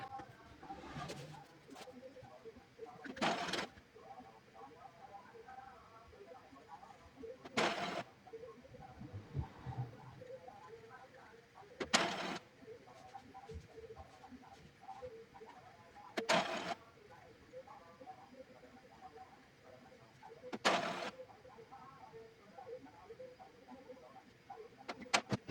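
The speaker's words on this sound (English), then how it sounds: "The printer will begin cleaning, and this may take several minutes." Epson printer running a power cleaning cycle, with a low steady mechanical whir and rattle broken by repeated sharp clicks or clacks every few seconds across a long stretch.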